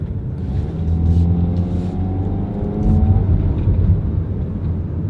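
A Jeep with a 6-speed automatic transmission pulls away from a stop, its engine droning steadily and rising in pitch through the gear, loud and close with a slight dip between shifts.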